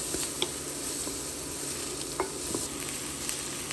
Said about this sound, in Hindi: प्याज को थोड़ा नरम करना है। थोड़ा नमक डालते हैं।